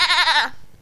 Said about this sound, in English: that's your pet goat from the past